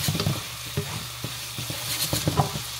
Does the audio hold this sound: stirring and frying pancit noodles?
yes